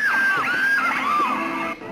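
Loud, high-pitched screams and whoops rise and fall from a crowd, sustained and overlapping before cutting off abruptly at the end.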